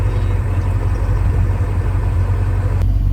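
A 4.7-liter V8 engine of a 1984 Porsche 928S idles with a deep, steady rumble close by, a sharp click near the end.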